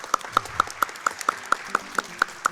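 Short, evenly spaced claps land roughly every quarter second, a single steady rhythmic clapping rather than a dense crowd roar, offered as a cheer for players clearing a section of The Legend of Zelda: Link's Awakening DX at a Summer Games Done Quick speedrun.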